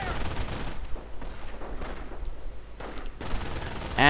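MG-42 machine gun fire in a World War II strategy video game, rapid bursts and scattered gunshots crackling steadily at mid distance through the whole stretch with no speech over them.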